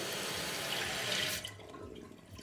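A toilet tank refilling: steady rushing water fills the first second and a half, then drops to a softer, lower trickle as flow continues close by.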